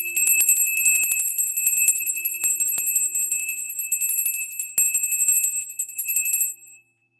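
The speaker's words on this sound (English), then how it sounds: "bell." A single solar plexus bell rings with a bright, sustained metallic tone, sounding close and fairly loud, then slowly fading over several seconds to silence.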